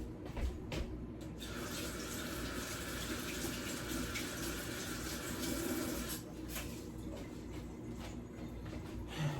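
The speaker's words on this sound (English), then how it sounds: "Wash my hands." Water runs steadily from a kitchen tap while hands are washed between steps of cooking neckbone soup, a continuous close rushing spray with faint splashing that fills the whole stretch with no talk.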